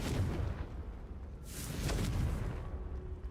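A Confringo spell blast from Hogwarts Legacy bursts as a single deep explosion that swells and rolls out over a low rumbling background, fairly loud and close with no talking.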